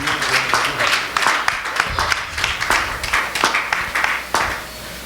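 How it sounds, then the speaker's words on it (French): Church congregation claps and cheers in praise of Jesus, a dense, loud run of hand claps with irregular sharp bursts going on for several seconds. "Acclamons très fort notre Seigneur Jésus"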